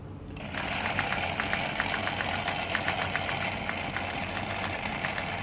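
Singer 107w100 sewing machine stitching eyelet embroidery, starting up and then humming continuously with a fast, even mechanical clatter, close and moderately loud.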